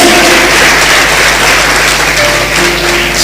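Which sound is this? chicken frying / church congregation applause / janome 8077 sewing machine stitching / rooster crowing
church congregation applause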